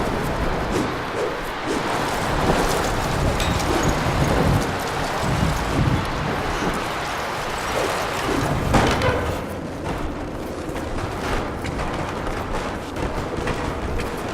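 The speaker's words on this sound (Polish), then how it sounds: "wieje wiatr" Gusting wind in a dark, eerie stretch of the video game Tomb Raider, a steady broadband roar with swelling gusts that fills the whole passage, fairly loud and continuous, with no talk over it.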